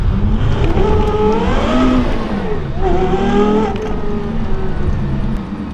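A Porsche Carrera GT's V10 engine revs loud and close, its pitch rising and falling through repeated climbs and a dip, with no talking over it.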